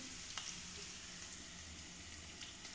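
Marinated chicken pieces with ginger-garlic paste sizzle in hot oil in a pan, a faint, steady crackling hiss with occasional small pops.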